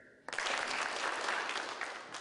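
An audience bursts into applause after a short lead-in, a dense, even wash of many hands clapping that carries on at steady volume to the end.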